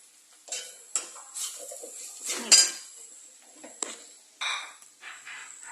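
Egg roast masala of quail eggs stirred in a pan, heard as intermittent metal spoon scrapes and clinks against the pan, up close with quiet gaps between strokes.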